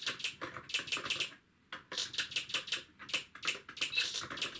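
Typing on a DK'Tronics add-on keyboard for the ZX Spectrum, bursts of rapid clacky keystrokes close up with a short pause midway, then steady fast typing resuming, no voices.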